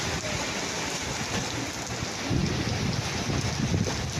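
Heavy rain with strong wind pours steadily in a dense, hissing wash in Lebak, Sultan Kudarat, growing louder and more rumbling partway through.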